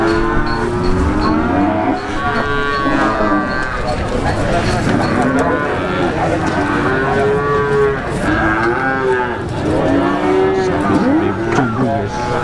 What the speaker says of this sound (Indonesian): Sapi-sapi jumbo guys.